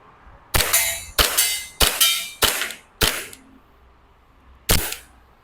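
Six sharp gas pistol shots from a TTI Pit Viper airsoft pistol, CNC version, fired close and loud: five in a quick even run, then a pause before a single last shot.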